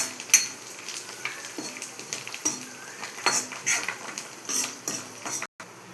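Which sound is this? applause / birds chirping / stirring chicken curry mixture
stirring chicken curry mixture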